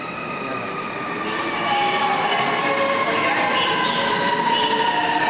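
An MRT metro train in Manila rumbles steadily with a rising hum and faint wheel squeal, loud and close, as if heard from inside a moving carriage.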